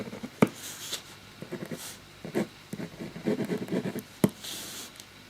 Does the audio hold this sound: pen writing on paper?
yes